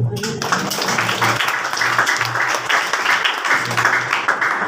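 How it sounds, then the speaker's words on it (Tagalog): A congregation claps during a Sunday morning Christian fellowship service in Lipa City, a steady broadband patter of hands sustained throughout, with a low hum and faint voices underneath. "Ang may pag-asa pumalakpak sa Panginoon."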